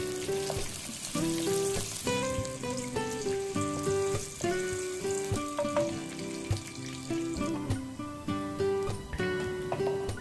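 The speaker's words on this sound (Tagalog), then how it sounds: "Unahin natin igisa yung luya guys." Ginger sautés in a pan for Filipino-style chicken tinola, giving a soft, steady sizzle with faint stirring. Loud background music with distinct melodic notes largely covers it.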